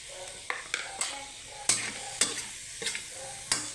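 Longganisa sausage sizzles and fries in a pan while being stirred, with a steady sizzle broken by sharp scraping stirs and occasional clinks of utensil on pan, close and moderately loud, no talking.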